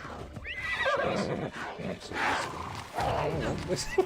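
Horse neighing in the Assassin's Creed Odyssey video game, a whinny rising and falling over a busy game soundscape with speech and other activity.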